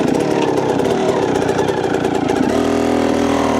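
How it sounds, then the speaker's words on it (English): A dirt bike engine runs steadily while the rider turns the bike on a trail bank. The engine holds a close, loud idle-like drone, then its tone drops and settles lower partway through. "we can actually ride our front wheel up the bank and then reverse back down it"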